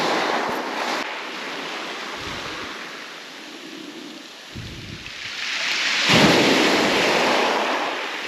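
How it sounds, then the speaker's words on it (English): Gentle sea waves run up and down the shore on a calm night, a soft continuous wash with swelling surges rather than crashing breakers, heard close with some wind on the microphone. "these waves are just, they're not crashing, they're just literally gently running up and down"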